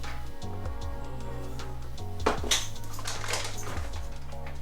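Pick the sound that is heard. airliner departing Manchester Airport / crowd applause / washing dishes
washing dishes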